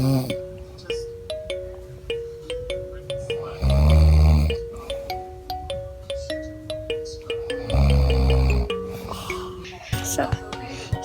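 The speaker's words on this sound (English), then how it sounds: "I always see him snore at the night" A sleeping father snores at night: two long, loud, rasping snores several seconds apart, with a plinking melodic tune playing throughout.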